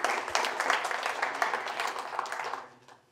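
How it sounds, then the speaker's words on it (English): Keynote audience at a real estate event applauds steadily for about two and a half seconds, a dense close clapping that fades out at the end. "So round of applause for you guys for doing that."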